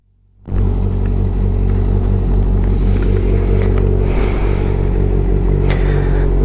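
A Honda CBR650 superbike starts and holds a loud, deep, steady exhaust rumble, close by and alone, with slight rises in revs.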